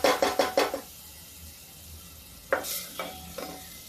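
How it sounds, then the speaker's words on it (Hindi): Masala spices frying in a pan for arbi sabzi, with a spoon stirring through them in two quick bursts of scraping and sizzling, separated by a quiet pause, close and fairly loud. "देखिए, मसाला भून रहा मेरा।"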